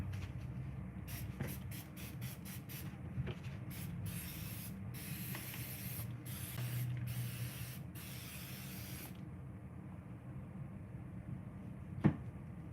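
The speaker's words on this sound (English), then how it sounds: "Let me spray some of this on here" A handheld spray bottle gives a quick series of sharp hissing spritzes, repeated in short bursts and then longer sprays. It is close and fairly quiet, with no talking, and a small knock comes near the end.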